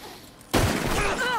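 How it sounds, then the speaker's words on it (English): A loud gunshot blast in Red Dead Redemption 2 cuts in abruptly after a quiet stretch, followed by sustained rumbling reverb and ringing, with a voice speaking over the tail. "He shot me."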